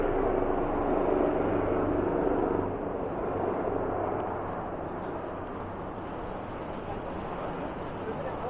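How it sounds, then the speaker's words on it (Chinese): A low-flying helicopter over a city street in Toronto makes a loud, steady rumbling roar that fills the scene and eases off slightly as it passes. "低飞的直升机"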